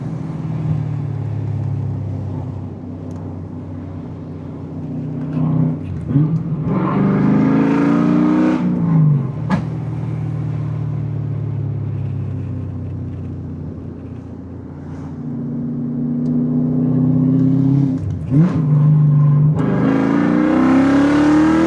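BMW M5 E39 V8 engine, heard from inside the car, roars loudly with a deep rumble and repeated revs that climb and drop, with several sharp rises and gear-change dips over about twenty seconds.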